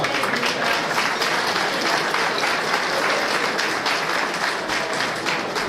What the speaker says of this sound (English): Let's have a round of applause for Dr. G, please.